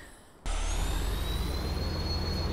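A utility truck engine from Farming Simulator 19 starts abruptly and then runs steadily, loud and close, with a thin whine over the rumble.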